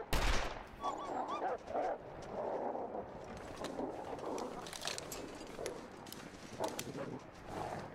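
Gunfire in The Long Dark, heard as a scatter of sharp, loud shots at irregular intervals over an eight-second stretch, set against a busy, noisy game soundscape.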